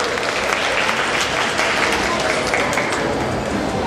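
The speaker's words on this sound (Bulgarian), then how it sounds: "Аплодисменти още веднъж за него." An audience at the Grand Flora 2012 event applauds, a loud, dense and continuous clatter of many hands clapping, with some crowd noise and faint voices mixed in.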